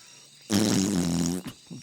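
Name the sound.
fart sound effect from the video game Roadwarden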